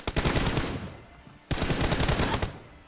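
Automatic gunfire from PUBG Mobile in two loud, rapid bursts of shots, each lasting about a second, separated by a brief pause.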